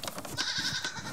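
A goat bleats on a farm, one wavering nasal cry close by with soft rustling and shuffling around it.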